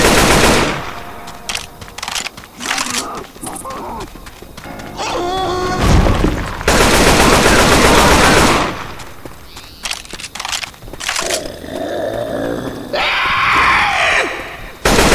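Loud bursts of automatic gunfire and single shots ring out in Left 4 Dead 2 on the Parish campaign in an expert mutation mode, mixed with shattering impacts and dense, chaotic noise across the whole stretch.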